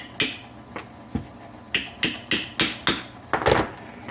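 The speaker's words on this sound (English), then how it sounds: "Let me go ahead and tap this with a hammer a little bit just to see if it'll kind of push through" A hammer tapping on a part of a rear wiper motor from a Toyota Tercel SR5 wagon, about ten sharp close metallic knocks in an uneven rhythm, some spaced apart and some in quicker succession.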